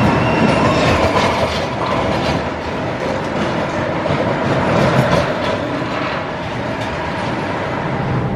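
The Cannonball Express roller coaster train at Pleasurewood Hills rattles along its track with steady clattering wheels and mechanical rumble, loud and close, continuing through the whole stretch.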